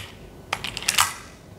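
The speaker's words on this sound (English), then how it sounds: "Even putting that mag in, just slides on really nice" A magazine slides into a WE Tech Beretta M92 pistol and clicks home, a quick cluster of close, crisp clicks lasting about half a second.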